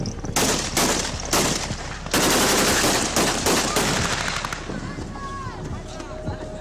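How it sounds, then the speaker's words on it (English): Celebratory gunfire rings out at a crowded makeshift fairground in the former Gaddafi compound in Libya, with loud sharp bursts of rapid automatic fire repeating in clusters, followed by quieter, more scattered shots and crowd noise. "Now his compound had become a makeshift fairground, complete with lots of celebratory gunfire"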